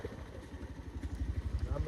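A new motorcycle with a failing battery idles close by, giving a low, rhythmic chugging putter that grows slightly stronger over the short stretch.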